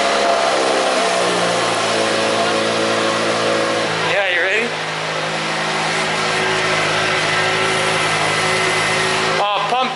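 A car engine drones and revs steadily at close range on a test drive, with a brief rising whine midway and again at the end; people talk over it.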